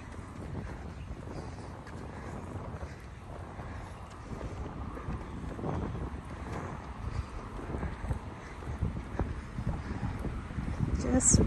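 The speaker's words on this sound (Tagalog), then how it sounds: "Malamig yung hangin." Steady wind gusts buffet the microphone, a continuous low rumble that swells toward the end, with faint voices under it.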